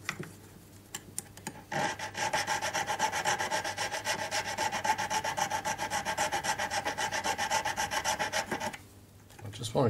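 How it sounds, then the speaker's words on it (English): A needle file rasps back and forth against the claws of a metal crown-set ring in quick, even strokes. The close, steady scraping runs for most of the stretch after a few light taps at the start, then stops near the end. "I'm twisting the needle file as I'm filing."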